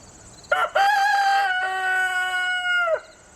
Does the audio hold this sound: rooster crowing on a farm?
yes